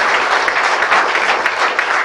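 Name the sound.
congregation applause at healing service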